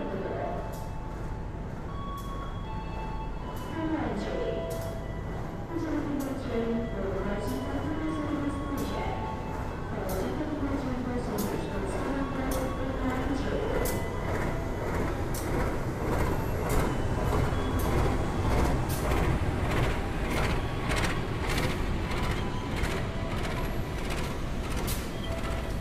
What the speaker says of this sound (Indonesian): yang masuk di jalur 1 itu adalah rangkaian kereta api Bangunkarta ya teman-teman